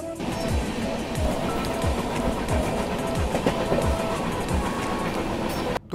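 Duronto Express train on the Mumbai to Prayagraj run rolling steadily on the rails at sunset in hilly country, a constant loud rumble with repeated wheel clicks over rail joints, ending in a brief dropout.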